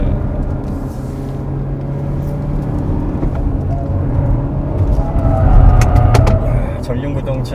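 A Renault Samsung XM3 drives through a series of consecutive corners, its engine and road noise a steady close rumble that swells briefly toward the end, with people talking over it.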